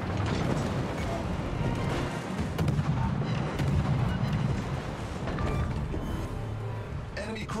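Naval gunfire in the World of Warships video game: heavy, overlapping booms and blasts roll on almost without pause, loud and dense throughout, with a slightly calmer stretch near the end.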